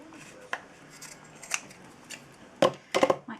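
Scissors snipping the edges of a paper junk journal tag, a few quick, close cuts with a clustered pair of snips near the end, soft room hiss between them.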